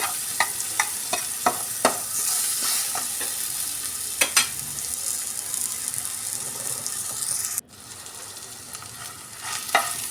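Steady frying sizzle of potatoes with salt and turmeric fills the clip, with scraping stirs and clinks on and off, then the hiss drops sharply near the end before picking up again.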